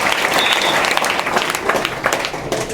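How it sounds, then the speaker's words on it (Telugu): Steady, dense applause from a school hostel audience of students and parents fills the room, loud and continuous with no one speaking over it. "ఒకసారి గట్టిగా చప్పట్లు కొట్టి ధన్యవాదాలు తెలియజేయాలని కోరుతున్నా"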